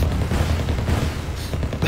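Dense, continuous gunfire and explosions roll through a Wargame battle, a loud unbroken barrage of overlapping shots and booms with no pauses.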